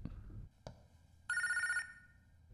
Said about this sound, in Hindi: लो इसे भी अभी फोन करना था।